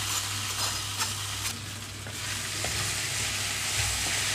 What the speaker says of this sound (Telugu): సేమియా మొత్తం ఇందులోకి వేస్తున్నాను